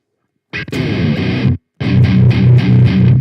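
Electric guitar played through the Nembrini Cali Axis tube amp app on iOS with a dark, distorted tone: a short chord burst, a brief gap, then several more chugging strums, loud and close.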